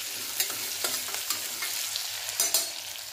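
Onion and curry leaves frying in a pan, a steady close sizzle with soft crackles and a few sharper spatters from stirring, no voices.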